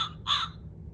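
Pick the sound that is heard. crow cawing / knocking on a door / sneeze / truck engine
crow cawing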